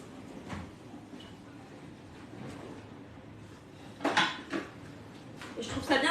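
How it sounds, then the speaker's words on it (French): A Thermomix cooking basket is set into the bowl while a chicken coconut curry is prepared, giving a couple of brief, light metallic clatters and clinks near the end over a quiet kitchen background. "Suivant, on met le panier cuisson."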